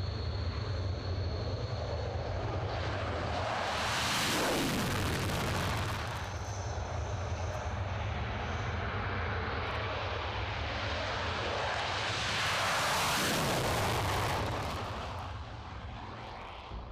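Loud jet roar of a Mirage 2000N aircraft engine, swelling twice as the plane sweeps past, with a broad rushing tone that fades slightly toward the end.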